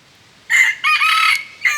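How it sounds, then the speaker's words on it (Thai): A wild junglefowl rooster crows up close and loud, a strained call broken into short bursts over a quiet background. "ไก่ป่านี่หอนขาด"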